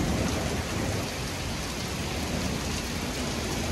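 Heavy rain pours down steadily and loudly during a thunderstorm, a dense, unbroken hiss of drops on surfaces with no voices.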